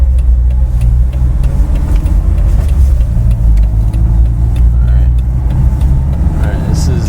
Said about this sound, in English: let's go for a drive in the little 4-banger